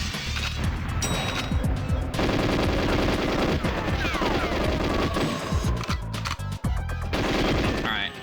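Sustained rapid gunfire in GoldenEye 007 on the N64 as a mainframe terminal is shot up, a loud continuous rattle of shots mixed with impact and crash sounds over game effects.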